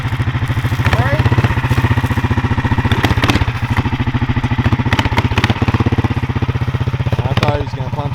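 A 500cc Duromax engine on a small homemade vehicle's first ride runs loud and close, its steady rapid firing chugging with rhythmic clatter and slight rises in pace, continuous throughout.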